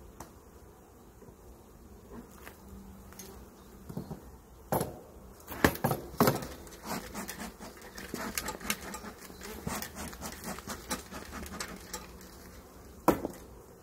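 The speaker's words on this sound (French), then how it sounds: "J'ai une abeille qui veut me piquer la tronche." Honey bees buzz around an open beehive during a swarm colony inspection, a steady insect hum under scattered clicks and knocks of handling frames, with one bee flying close by at moments.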